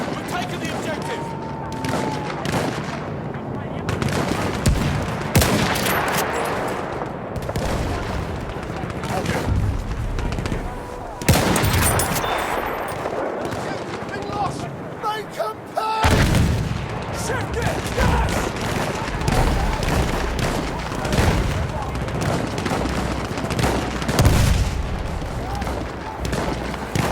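Battlefield 1 combat with machine gun fire among a dense mix of shots, booms and explosions, loud and continuous with brief pauses, and voices calling out amid the fighting.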